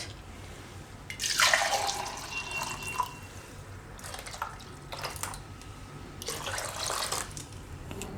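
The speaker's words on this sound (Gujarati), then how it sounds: "તો પછી આપણે એમાં પાણી નાખીશું થોડુંક પાતળું કરવાનું" Quiet splashes of water being poured into a pot of ripe mango kadhi in a few separate bursts, with soft dripping and trickling between pours.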